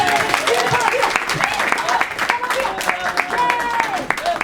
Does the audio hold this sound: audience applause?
yes